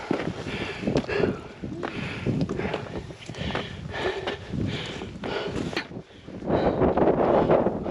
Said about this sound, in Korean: 정상부에 올라오니 바람은 세차게 불어 몸을 가눌 수가 없고